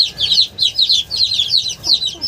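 Chicks cheeping and clucking in a steady, noisy chorus of rapid repeated calls, close by and fairly loud, with no talking, in a farmyard.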